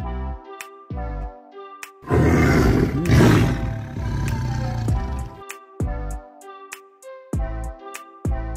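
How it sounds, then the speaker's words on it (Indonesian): A tiger's deep, rough roar lasting about three seconds, loud and close, set between bright musical notes that play before and after it. "Ini adalah harimau."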